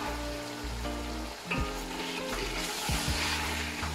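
Garlic ginger paste sizzles steadily in a pan for beef nihari, a continuous frying hiss heard alongside a low background hum and some faint tonal sounds, with no one speaking.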